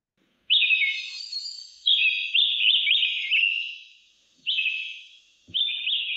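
AI-generated bird song from Stable Audio Open, a loud clear sequence of bright warbling and chirping phrases in four bursts separated by short silences, alone with no other sound.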